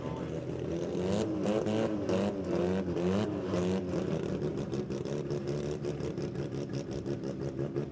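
Toyota Celica and Mazda RX-7 sports compact drag cars at an Australian drag strip, engines revving in rapid choppy bursts with rising whine, steady and fairly loud at a distance, with faint crowd and announcer sounds underneath.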